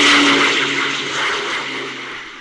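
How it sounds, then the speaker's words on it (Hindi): A plane carrying Netaji takes off from Bangkok for Saigon in a 1945 radio play scene, heard as a steady, loud roar of engine and rushing air that swells slightly and then fades a little. "नेताजी का विमान 17 अगस्त को पुनः बैंकॉक से सैगोन के लिए उड़ा"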